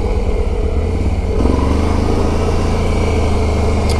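A Can-Am Renegade 1000 ATV engine runs loud and close, a steady throbbing drone that picks up slightly as the quad pulls out onto the road.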